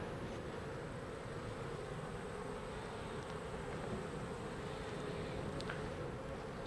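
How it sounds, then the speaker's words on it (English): Honeybees buzzing around an open beehive during a hive inspection, a steady, soft, continuous drone of many insects close by with no talk. "There's a lot more bees, looks like, this week."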